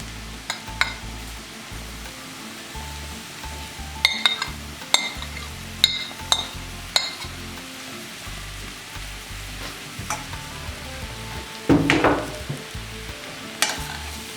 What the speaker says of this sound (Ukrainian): Поки наші печериці обжарюються